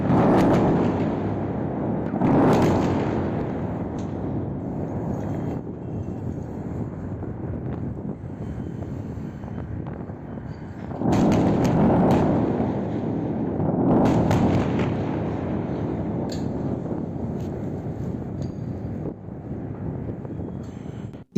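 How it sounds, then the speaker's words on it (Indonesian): Distant explosions from strikes on Revolutionary Guard targets in Tehran, heard at night as broad rumbling booms, with two larger swells around the start and middle over a constant windy background. "Itu adalah suara target-target Garda Revolusi yang diserang di Teheran"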